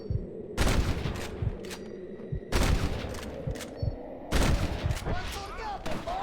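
Gunfire in the western video game Red Dead Redemption, three loud bursts of shots with sharp cracks and rolling echoes, separated by short quieter gaps with a voice speaking between them.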